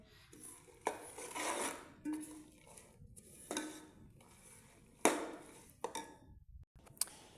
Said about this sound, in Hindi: और फिर मैंने इसकी मिक्सिंग करनी है अब अच्छी तरह से।